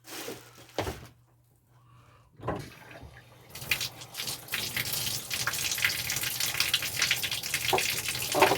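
Tap water runs from a faucet into a sink during handwashing, a steady broadband splash that starts after a brief quiet gap and continues close and moderately loud to the end.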